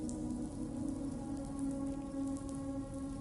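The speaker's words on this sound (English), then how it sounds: "The raindrops are hitting the camera lens and they stick there like actual raindrops would" Rain hits a camera lens in the Death Stranding 2 video game, a steady soft patter over a constant low droning hum, even and unbroken throughout.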